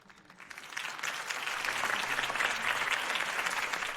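Crowd applause in the video game Batman: The Telltale Series swells in from quiet, building over the first second into a broad, sustained ovation from a large gathering that holds at full strength.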